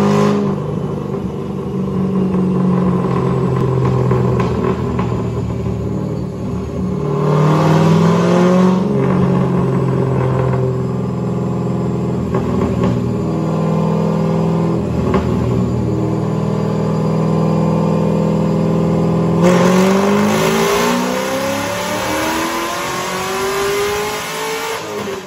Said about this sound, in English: Chevrolet Corvette.